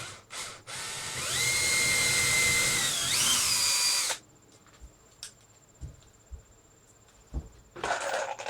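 A power drill drives a screw to fix a radiator fan in place in a shed, whining loudly for a few seconds with a rising pitch, then cutting off. Faint clicks and handling noises follow.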